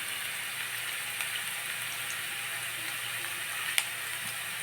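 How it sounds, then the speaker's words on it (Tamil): Onions frying in hot oil in a pan while stuffed brinjal is cooked in Maharashtrian style, a soft steady sizzle with faint crackles and one brief sharp tick, no voices. "நல்லா ஒரு நிமிஷம் வதக்கிட்டு நல்லா பொரியுது வெங்காயம்."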